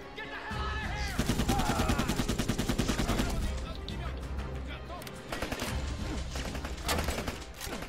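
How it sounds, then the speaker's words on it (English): Sustained, loud automatic gunfire from Rambo: The Video Game, bursts rattling continuously over explosions and clanking in-game mechanisms, with shouted dialogue and voices mixed in throughout. "Stop shooting me"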